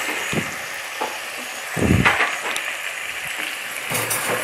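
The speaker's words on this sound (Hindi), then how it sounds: "इसको मैं अच्छी तरह से फ्राई करूंगी।" Masala paste for dal bukhara sizzling in a pan while a spoon stirs it, soft steady frying hiss with a few louder scraping bursts of stirring, close and alone.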